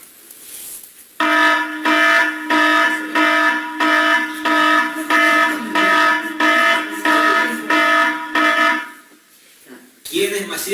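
Alarm sound effect used as a spoiler warning: a loud, harsh buzzing horn repeating in about eight evenly spaced pulses over several seconds, then cutting off as a voice begins to speak.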